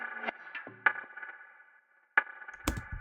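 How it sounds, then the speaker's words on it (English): Sparse woody clap hits with echoing, warbling effects trailing after each one, ringing tails and a short gap of silence between them. "Nice little wood clap and some cool effects on that."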